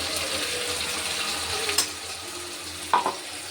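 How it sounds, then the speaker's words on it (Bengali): A paste of dried chili, ginger, garlic and a little onion fries in a pan with a soft, steady sizzle, broken by a couple of brief clinks of a utensil. "এই রসুন পেঁয়াজ আদা এইটা ভেজে দিয়েছি"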